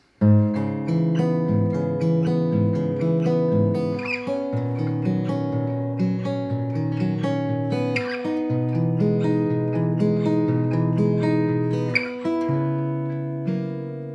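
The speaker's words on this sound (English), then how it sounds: "Now the next chord that we are about to learn are the minor 7th chord" A guitar strums and lets ring a minor seventh chord several times, sustained tones with fresh strums roughly every few seconds, close and clear.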